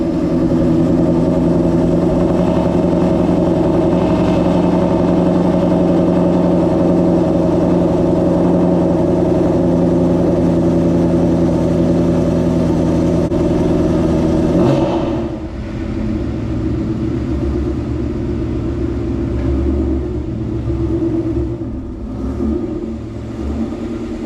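A car engine running at a cold-start idle in a garage: a loud, steady, close-up rumble that holds evenly before dropping slightly in level and settling into a lower, rougher idle.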